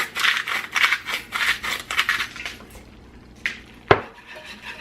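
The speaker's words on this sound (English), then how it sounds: "Just continue to whisk it." A whisk works thick sausage gravy with black pepper in an iron skillet, making rhythmic metallic scraping strokes in quick repeated bursts, then a pause and a couple of sharp clanks against the pan.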